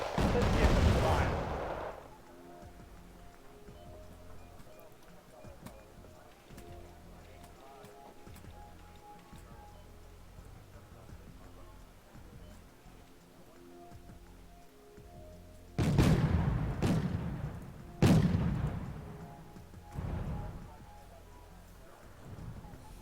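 Gunfire and artillery blasts from the Wargame Red Dragon 1950s sandbox battle: a heavy boom opens, scattered faint shots crackle through a quieter stretch, then a cluster of loud detonations lands near the end.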